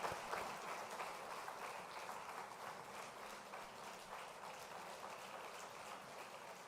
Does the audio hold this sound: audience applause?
yes